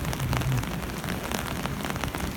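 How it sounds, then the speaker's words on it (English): Heavy rain pours onto a downtown Toronto street along Yonge Street, a loud, steady broadband hiss of drops striking pavement that fills the whole stretch without pause. "It's starting to rain heavier now."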